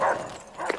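Dogs barking in the video game Call of Duty: World at War, a couple of short barks and yelps at the start and end with a quieter gap between, fairly close, no talking.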